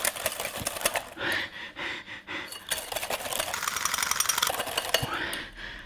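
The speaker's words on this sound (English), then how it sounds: "we're gonna, respect Mrs Beeton and go, ooh, proper whisk it up" A hand whisk beats egg yolks with sugar in a bowl in a kitchen, a busy continuous scraping and clattering rattle with rapid irregular strokes, fairly close, for several seconds.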